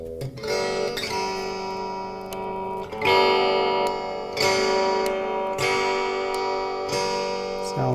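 An electric guitar, just rewired and soldered, is plugged in and strummed for a quick tuning check, with chords ringing out and re-struck roughly every one to two seconds, close and fairly loud.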